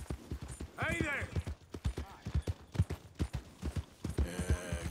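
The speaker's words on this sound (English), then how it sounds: "What a nice horse." A horse's hooves clip-clop in the video game Red Dead Redemption 2, a steady rhythm of close, crisp strikes with a short whinny early on and a brief voice near the end.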